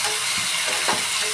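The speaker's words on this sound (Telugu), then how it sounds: "టమాటా ఆనియన్ వేగేంత వరకు ఒక 5 మినిట్స్" Onions and tomatoes frying in a pan give a steady, close hiss of sizzling oil with faint stirring scrapes underneath.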